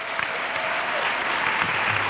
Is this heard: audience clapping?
yes